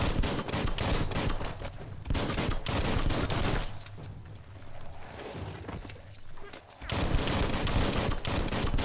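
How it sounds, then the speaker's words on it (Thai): Gunfire in the open-world video game Biomutant, loud repeated bursts in the opening seconds and again near the end, with a quieter stretch of ambient game sound between, and a voice briefly exclaiming over it. "โอ้ยยิงไม่โดนเลย"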